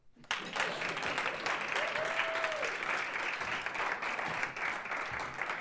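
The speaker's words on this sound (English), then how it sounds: "You can clap now." Audience applause in a hall during a speech at a democracy-themed event: sustained, dense clapping that starts abruptly and holds at an even, fairly loud level, with no voices over it.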